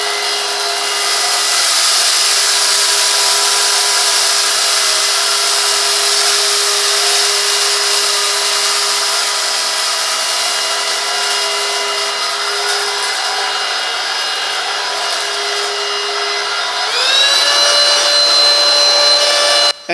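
A Silvercrest 2-in-1 cordless vacuum cleaner, model SHSS 18, runs with a steady, loud motor whine and strong airy hiss throughout, shifting pitch upward near the end as the suction setting changes, then cutting off abruptly.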